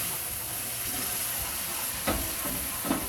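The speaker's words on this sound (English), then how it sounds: "we need to add our strained giblet stock into the roux, whisking vigorously" Strained giblet stock is whisked vigorously into a hot roux, giving a steady close sizzling hiss with a couple of soft whisk knocks against the pan near the end.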